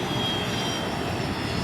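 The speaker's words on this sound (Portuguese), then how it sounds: "Ligaram agora os motores, só esperando o presente chegar aqui." Helicopter engines of the Brazilian Air Force running, a steady loud turbine roar with a high whine, continuous and close, no voices over it.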